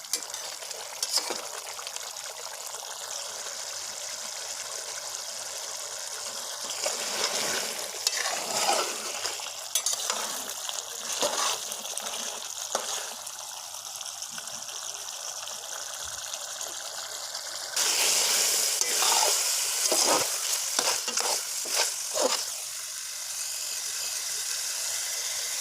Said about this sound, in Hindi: कलेजी का हमने पानी भी खुश्क करना है, साथ साथ हमें इसको भूनना भी है